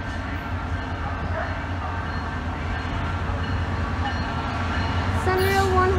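An Amtrak or SunRail train rolls past on the southbound track in Orlando, a steady rumbling roar that swells toward the end with a brief horn-like tone; someone speaks faintly over it.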